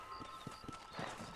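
Horse hooves clip-clop in the Western video game Red Dead Redemption, a few soft, uneven footfalls over a steady background hum and faint high tones, with no talk.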